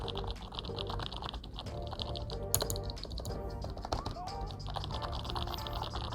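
Fingers type quickly and continuously on a cheap membrane computer keyboard, producing soft, slightly mushy clicks at an even, close-up level.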